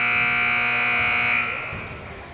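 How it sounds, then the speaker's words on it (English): A loud, sustained electronic buzzer sounds at the close of the first quarter in a Haven Wildcats vs. Nickerson Panthers high school basketball game, holding steady for over a second before cutting off into gym noise. "that buzzer that you heard there, that's the end of the first period, the first quarter"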